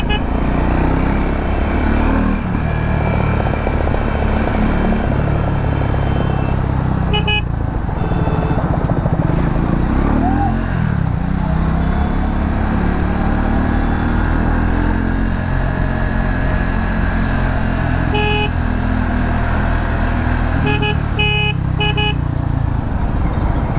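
Vehicles idle and creep through a dense traffic jam, a loud constant engine drone with several short horn toots scattered across the scene.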